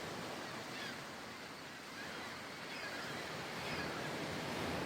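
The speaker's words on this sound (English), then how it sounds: "Another waterfall." A waterfall in the fantasy role-playing game Baldur's Gate Enhanced Edition rushes as a soft, steady wash of water noise, faint and continuous throughout with no other distinct sounds.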